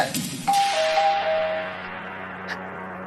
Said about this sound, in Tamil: அப்பா மறுபடியும் வெளியே காலிங் பெல் சத்தம்.